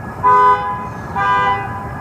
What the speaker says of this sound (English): all they're doing is honking at each other